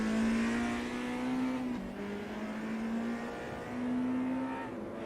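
Race car engines from the DTM1992 sim racing game whine at a steady high pitch, holding one note and then shifting with gear changes over a low rumble, loud and close.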